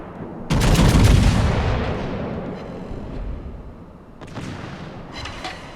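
A heavy naval gun salvo from a North Carolina battleship in World of Warships booms out, then a long rumbling decay follows, with a second, softer volley a few seconds later.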